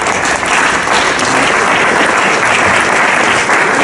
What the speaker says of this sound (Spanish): Quiero unas palmas para ellos, por favor.